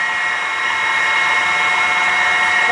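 A Chevalier FCL-1840 CNC lathe runs its program in auto mode, a loud, steady, close mechanical whine with a constant high-pitched tonal hum and no pauses.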